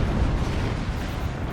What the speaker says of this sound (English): Oh, that was a cannon shot.